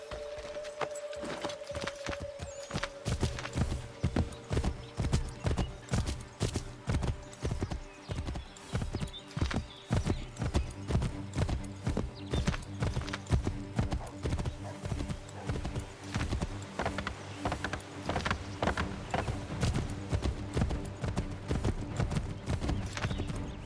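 A horse gallops in Assassin's Creed 3 Remastered, its hooves pounding out a fast, steady rhythm that runs continuously and prominently from start to finish.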